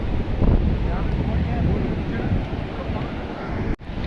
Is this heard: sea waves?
yes